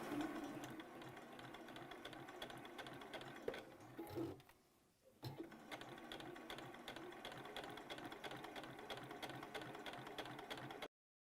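A sewing machine stitches slowly around the edge of a fabric circle with a rhythmic, close mechanical whirr, pausing briefly midway before resuming at a steady pace, faint overall.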